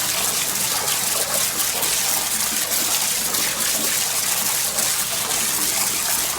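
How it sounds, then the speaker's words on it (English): Steady rushing water from a hose washes the DE filter grids of a commercial pool, a constant close gushing spray with no pauses and no speech. "Start washing off your grids more."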